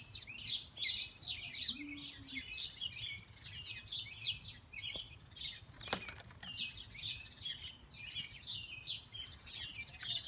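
Young robins give high, repeated chirps in quick bursts throughout, faint and close, with soft wing flutters and a brief knock partway through.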